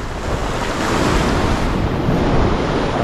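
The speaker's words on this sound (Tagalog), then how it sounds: "Para lumalaki yung alon ah." Ocean surf surging and breaking continuously off Palawan during a popping fishing trip for giant trevally, a dense, loud wash of water mixed with wind buffeting the microphone, steady throughout with no voices.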